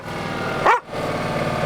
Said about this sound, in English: the dog will bark at the lawnmower and all you'll hear is dog barking